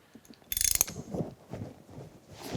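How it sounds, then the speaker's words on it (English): A socket wrench ratchets in a quick burst of rapid clicks, close and brief, while a universal head is set up on a horizontal mill, followed by softer clunks and handling noises. "I'm gonna have to get a socket. I can't get my wrench in there."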